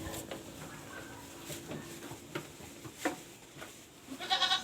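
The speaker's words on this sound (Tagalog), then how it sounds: "papakita ko sa inyo yung kambing natin" Goats on a farm giving a few short bleats amid soft rustling and shuffling, the calls close but fairly quiet, with a louder bleat near the end.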